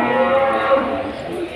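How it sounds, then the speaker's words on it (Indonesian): Cattle moo at a livestock market in Kudus, one drawn-out, fairly loud low call over a busy background. "Ini ada sapi-sapi pekon dan ada limusin."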